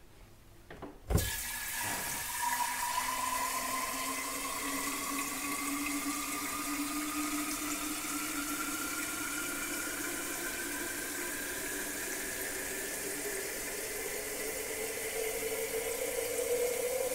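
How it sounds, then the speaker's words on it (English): Water from a sink tap running into a pitcher, starting with a splash and then a steady rushing flow whose resonant tone rises gradually as the pitcher fills. "Let's test that by running the water through it and recording the sound."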